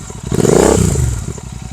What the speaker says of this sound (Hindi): यहाँ पर मैंने माइक को रिमूव कर लिया है। काफी लाउड एग्जॉस्ट है।